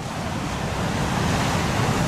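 Ocean waves break and wash over the rocks at Peggy's Cove in a steady, loud surge of surf noise with wind mixed in. No voices are heard.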